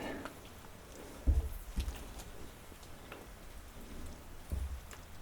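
Steady rain patters down all around, with a few dull low thuds breaking through the soft hiss.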